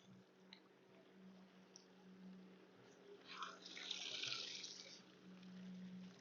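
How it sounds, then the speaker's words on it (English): Water drains and splashes out of a container of live crawfish being moved from trap to holding, a steady wet trickle that swells into louder gushing midway, with a low hum beneath. "And I'll let the water drain down."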